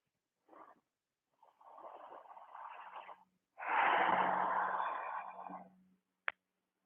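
Slow breathing during a yoga forward fold: a short soft breath, then a longer airy exhale, and a louder, deeper breath with a faint wheezy edge, each separated by quiet, close and intimate with no talking.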